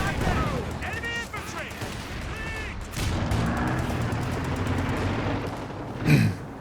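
Battle sounds from Company of Heroes 2: bursts of gunfire and a grenade blast, with a low rumbling explosion near the end and a commentator talking over the first half.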